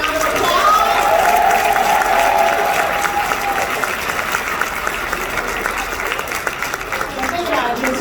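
A crowd at a Hyperverse gathering in a Crowne Plaza hall gives VIP3 members a round of applause, with loud steady clapping, a cheering shout early on, then the clapping tapering slightly but continuing to the end.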